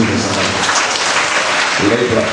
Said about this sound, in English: Clap Jesus' name.